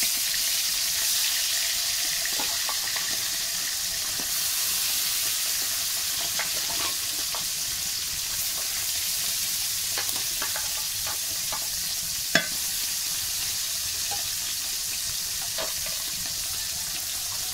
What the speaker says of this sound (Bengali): তেলটা গরম হয়ে গেছে, এখন মাছগুলো দিয়ে দেবো।